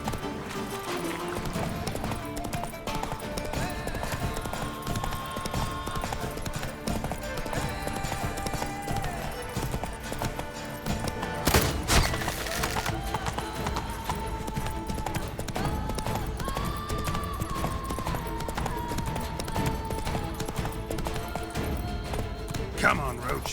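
A horse called Roach gallops in The Witcher 3 video game, hooves drumming in a steady rapid clip-clop throughout, with game music and occasional voices underneath.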